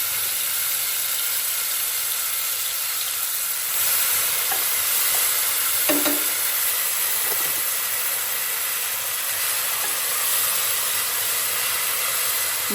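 Continuous loud sizzle and hiss of spices tempering in very hot oil, with a few faint stirring clinks partway through, steady throughout with no voices.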